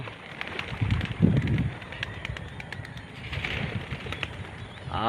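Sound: pigeons being released from loft

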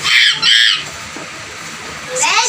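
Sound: person imitating a monkey

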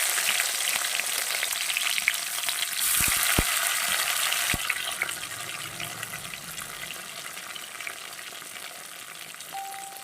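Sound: onion, tomato and cumin frying in a pan

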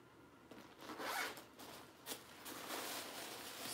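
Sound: zipper on a vintage leather tote bag

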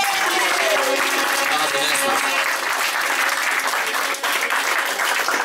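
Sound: audience applause for Crxy

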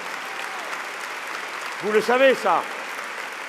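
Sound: audience applause at a political rally

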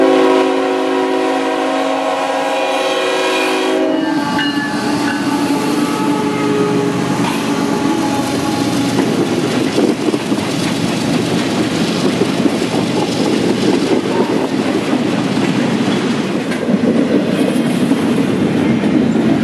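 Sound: CSX train passing

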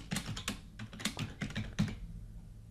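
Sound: typing a password on a computer keyboard

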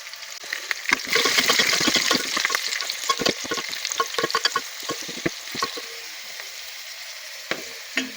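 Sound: green chillies and garlic frying in oil

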